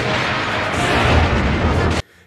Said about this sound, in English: And after the explosion, Howard wins!